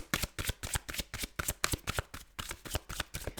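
A deck of tarot cards is shuffled close up, rapid rhythmic riffling bursts repeating steadily throughout, crisp and clear with no voices.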